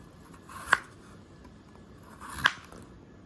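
A knife chops through a raw potato on a board, cutting it into pieces for homemade French fries: two crisp, separate cuts about two seconds apart in an otherwise quiet room.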